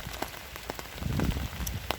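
Rain patters on surfaces during a November outdoor walk, with scattered close drops and a soft steady wash of falling water, moderately quiet, with no talking.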